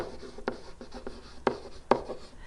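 Chalk or marker tapping and scratching on a writing surface during a geometry lesson on pyramid surface area, a series of sharp close strokes at irregular intervals, with no talking.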